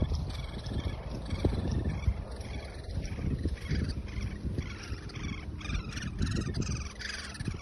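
Woodpecker chicks inside a nest hole in a garden tree give a continuous buzzy, raspy chatter, close and fairly loud over a rough, noisy background.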